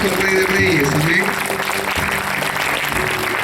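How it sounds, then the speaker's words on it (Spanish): Congregation applauding during a Spanish-language church service, a loud continuous clapping wash under a speaking or singing voice, steady throughout. "Vamos a darle un fuerte aplauso al Rey de Reyes"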